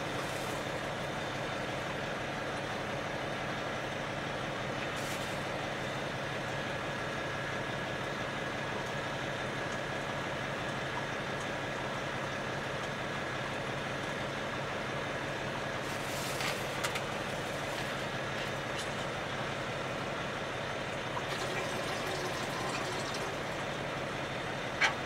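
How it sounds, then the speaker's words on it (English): A truck's diesel engine idling on a cold 20-degree day, a faint, steady low hum and whir that holds unchanged for about twenty-five seconds, with a few soft clicks and no talking. "The truck is staying on."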